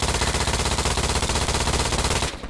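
Rapid, sustained automatic gunfire from a teammate in Hell Let Loose at Utah Beach, loud and close, with even bursts running for about two seconds before cutting off abruptly.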